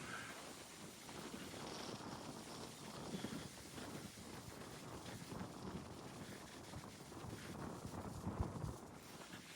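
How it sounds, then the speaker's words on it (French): Strong wind roars across an open plateau top, buffeting the microphone in a dense, continuous rumble with gusty surges and no clear speech. "On est au sommet du plateau. Il y a beaucoup de vent."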